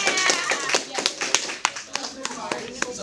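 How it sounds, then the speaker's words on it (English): A short burst of scattered clapping for a student during a school visit, sharp and uneven, fading in and out over a few seconds. "let's give him a round of applause"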